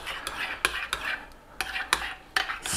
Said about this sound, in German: Ja, und dann umrühren.